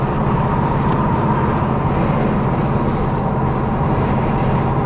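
An LS-swapped Oldsmobile Cutlass Supreme drives along a road, its engine making a steady, loud drone with road noise, with no distinct gear-shift break standing out.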